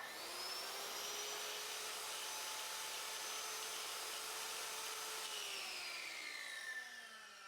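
Grizzly Pro budget track saw motor running steadily at full speed with a loud, even whine, picked up close to the tool, pitch dropping slightly near the end as it spins down.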